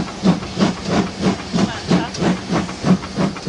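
Steam hissing from an old steam locomotive on a heritage railway, rhythmic bursts repeating about every third of a second like exhaust chuffs, close and steady throughout.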